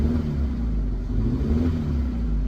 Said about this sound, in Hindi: सिलेंडर 2 जो है मिस फायर कर रहा है।